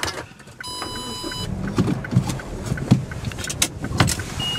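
A car pulls away on a village road, the engine and tyres rumbling low and close inside the cabin, with a brief electronic chime near the start and small knocks and clicks as it gets moving.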